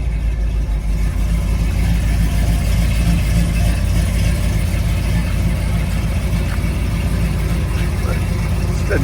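A 1979 Ford F150 Ranger XLT 4x4 pickup truck engine idles with a loud, steady low rumble that holds evenly throughout.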